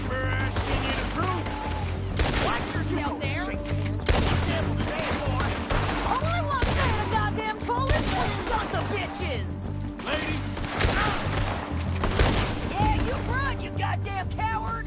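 A shootout in the video game Red Dead Redemption 2 fills the scene with loud, close volleys of gunshots. The rapid cracks and bursts overlap almost continuously for the whole stretch.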